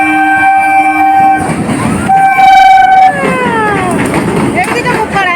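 A train passes close by at a level crossing, its loud rumble and rattling wagons joined by long sustained horn tones that shift in pitch as it goes by, with people talking.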